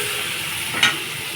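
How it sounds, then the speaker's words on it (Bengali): Food frying in a pan over high heat, a steady sizzle hissing throughout with one brief louder flare near the end, no voices. "ভাজাভাজি হচ্ছে"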